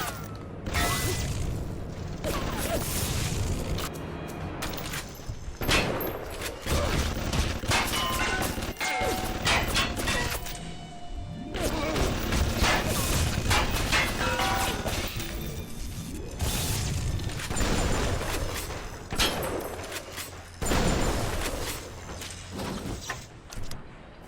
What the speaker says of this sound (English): Oh, those are turrets.